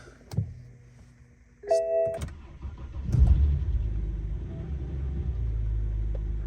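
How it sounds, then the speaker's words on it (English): A car engine with an idle problem cranks and catches, settling into a steady low idle rumble, preceded by a couple of electronic chimes. "But let's quickly start the car."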